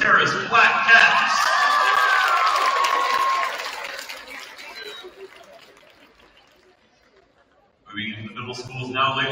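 Spectators in a high school gym at a girls' basketball game applaud and cheer for a team introduction, a loud roar that tapers off to near quiet before an announcer speaks again.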